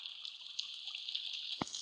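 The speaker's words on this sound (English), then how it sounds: "I can make the waterfall!" Waterfall in a video game, a steady, even hiss of flowing water that runs unbroken throughout, with a single brief click near the end.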